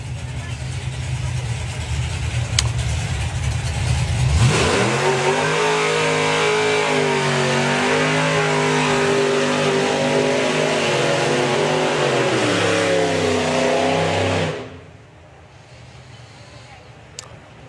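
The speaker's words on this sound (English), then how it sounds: "So Dave McCallan looking for an 8-second run." A drag racing car at a drag strip event launches and accelerates hard down the strip, a loud, rising engine roar that holds for about ten seconds before cutting away, with an announcer's voice talking over it.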